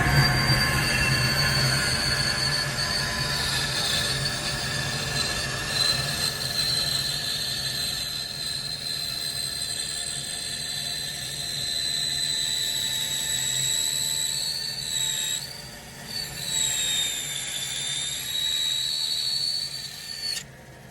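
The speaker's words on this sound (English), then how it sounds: "So I'll turn that extractor on. And we'll cut that first scale." A saw rips the first scale for a parang knife handle while a dust extractor runs, making a loud, steady mechanical roar with high whining tones that persists throughout, dipping briefly near the end, with no talking.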